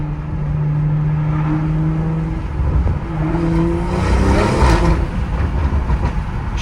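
A Stage 2 BMW M340i with a Dinan valved exhaust accelerates hard, its loud exhaust note climbing through the revs with crisp gear shifts and a raspy, close-up roar throughout.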